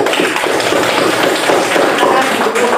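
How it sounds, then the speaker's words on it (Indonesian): A classroom full of students claps for a group after its presentation, a dense, steady patter of many hands close by, lasting a few seconds. "kita beri aplaus untuk kelompok 3 ya"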